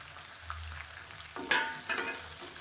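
Small onions, garlic and curry leaves sauté in a pan, giving a steady soft sizzle with a few louder stirring scrapes and bursts near the end.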